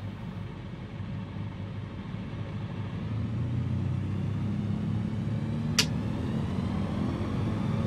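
A steady, heavy engine roar builds slightly and holds at full throttle in Microsoft Flight Simulator 2020, a continuous low drone with a brief high blip partway through.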